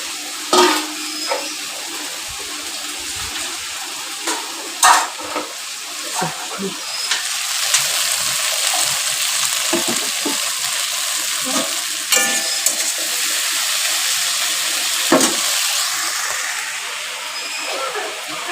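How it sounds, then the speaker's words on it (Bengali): Food frying in a pan gives a broad, steady sizzle with scattered clinks and scraping knocks of utensils stirring, growing slightly louder midway, with faint talk in the background. "এইটা ভাজা হয়ে গেছে ভাজা"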